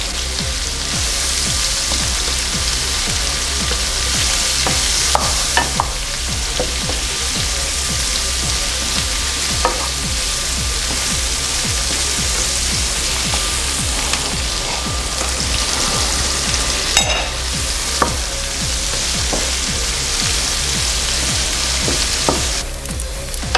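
Vegetables sizzle loudly in a pan with chicken schmaltz for smothered chicken, a steady close frying hiss broken by repeated scraping and knocking as the spoon stirs.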